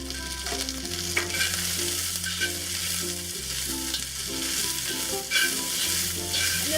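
Tagu choy stems hit hot oil with garlic in a wok, giving a steady close sizzle and crackle under faint stirring scrapes, with a low hum beneath and no talking.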